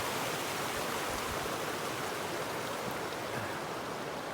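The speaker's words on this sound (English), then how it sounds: "we have this creek nearby" Creek water flows in a continuous, even rush, close by and steady, with no voices, along the Colorado Trail in the mountains.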